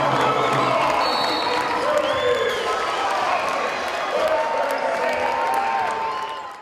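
A raucous crowd at a high school basketball conference game cheers and shouts continuously, loud and dense throughout, with a commentator talking over the noise and sneaker squeaks faintly audible.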